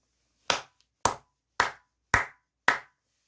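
Five sharp hand claps, evenly spaced about half a second apart, close and crisp against silence, with no talking.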